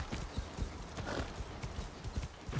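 Quick, steady hooves pound along at a gallop, with a brief whinny mixed in, close and fairly loud, from a horse in Far Cry 6.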